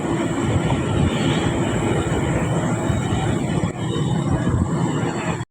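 Freight train hauled by a GMU 30 locomotive rumbling past close by, a steady continuous roar of rolling wheels and engine throughout, with a brief dip before resuming.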